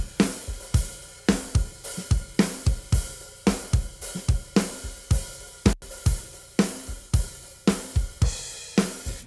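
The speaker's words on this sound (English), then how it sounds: "the heads on the toms are quite worn out, which you can definitely hear on the lower toms" An unprocessed drum kit with worn-out tom heads plays a steady groove of punchy kick and snare hits, with a brief sharp crash near the middle, dry and close with no voices.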